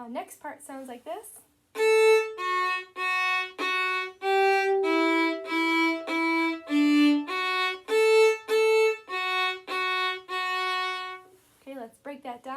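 The next part of Lightly Row played on violin, a steady series of clear bowed notes, each held about half a second with short gaps, sounding alone between brief bits of talk at the start and end.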